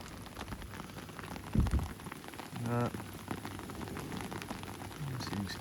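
Steady rain patters across a surface during summer bream fishing, a dense wash of drops with a few louder knocks and brief rustles in the middle.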